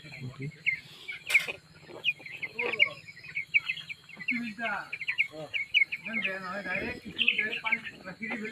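Seventeen-day-old chicks weighing around 650 to 800 grams, feeding and drinking in a brooder, give repeated high chirps and peeps throughout, with a person talking over them.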